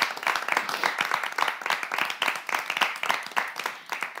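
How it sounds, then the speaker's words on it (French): An audience claps for someone being introduced on a New Year's Day show, a lively burst of many hands with a slightly pulsing, rhythmic feel, close and steady with no talking over it. "j'aimerais qu'on applaudisse"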